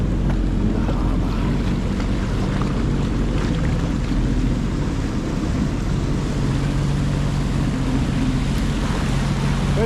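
A boat cruising through the harbour off Matakana Island, its steady engine drone and hull rumble continuous and close, with water wash and wind buffeting the microphone throughout.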